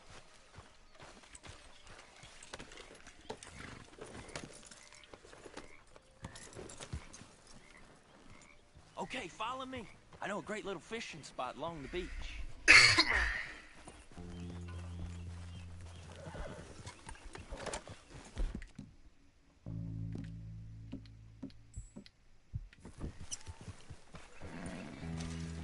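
Horse hooves clip-clop at a riding pace across outdoor ground in Red Dead Redemption 2, joined by whinnies and croaking frogs, with a voice talking over the ride.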